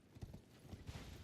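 Horse hooves clip-clopping in the video game Elden Ring, a short quiet run of several rhythmic hoof beats.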